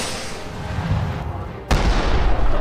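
Cartoon rockets fired and exploding: a loud rumbling roar of blasts followed by a sudden sharp boom and continued heavy rumble, dense and close, with no speech.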